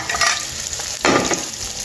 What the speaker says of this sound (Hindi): ये डाल रहे हैं प्याज, हरी मिर्चें और लहसुन। इसको हल्का सा फ्राई करेंगे।